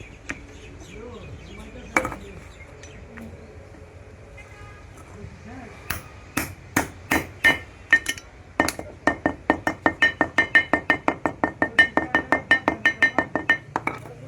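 Seal being tapped into place on a Suzuki Gixxer FI ABS rear sprocket, close sharp metallic taps that start sparse and then speed into a rapid, even run of clinking hits.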